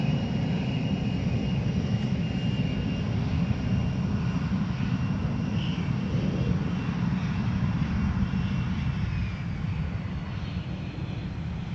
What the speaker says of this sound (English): We got a T-38 Talon as well. That is also taxiing.